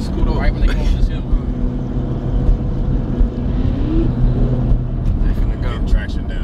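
High-horsepower drag cars launch at Tx2k, a steady loud engine roar with rising revs and tire noise under nearby crowd chatter and talking.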